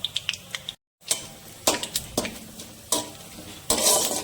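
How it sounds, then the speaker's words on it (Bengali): Bay leaf, two dried chillies, whole cumin and whole garam masala drop into hot oil for a mutton kosha, giving sharp crackling bursts and sizzles with clinks of a utensil on the pan, close up and without talk. "ফোড়ন দিচ্ছি তেজপাতা, দুটো শুকনো লঙ্কা, গোটা জিরে আর গোটা গরম মশলা।"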